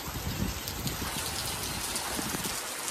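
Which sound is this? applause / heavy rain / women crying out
heavy rain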